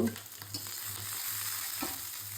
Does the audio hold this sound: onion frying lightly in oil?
yes